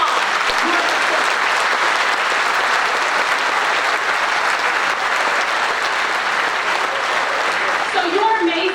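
A large crowd at a high school graduation claps continuously and loudly, a dense, steady roar of applause that holds throughout without a break.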